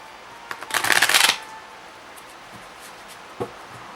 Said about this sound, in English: I'm actually going to draw one at a time with Philema today.